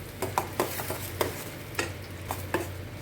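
Tomatoes soften in a pan for sundaikai vatha kuzhambu, a soft sizzle running underneath while a spoon stirs and scrapes the pan in irregular clinks every half second or so.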